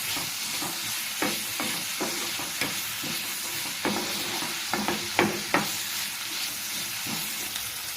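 Onions sauté in a pan for a dried red chilli chutney, sizzling steadily and close up while a spoon scrapes and taps the pan in irregular strokes, with no voices.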